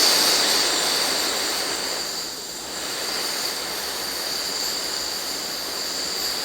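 An MSR WindPro camping stove burner runs at full output, giving a loud, steady roar with broadband hiss that dips slightly for a moment and then holds constant, with no talking.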